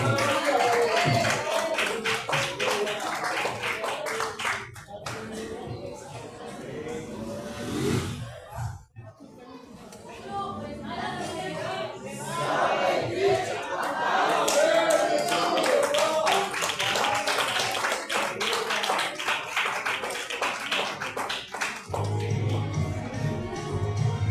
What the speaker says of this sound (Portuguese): Receba o meu convite com as palmas bem alegres.